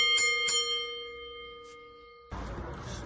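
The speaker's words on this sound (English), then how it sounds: "Now, I am going to ring the bell and we are getting out of here." A wrestling ring bell is struck twice in quick succession, bright metallic clangs that ring on with a long, slowly fading tone before an abrupt cut to noise.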